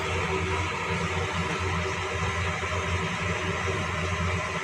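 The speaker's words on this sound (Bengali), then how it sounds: "এই যে ডালের জল ফুটে উঠছে" Lentil dal water boiling in a pot on the stove, a steady, dense bubbling hiss that runs without a break for the whole stretch, close and fairly loud, with no voices.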